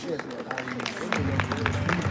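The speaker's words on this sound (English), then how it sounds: "give her a round of applause, please" Clapping from a conference audience in Lagos, broken at first, then swelling into steady broadband applause mid-clip, fairly close and moderately loud, with faint crowd murmur underneath.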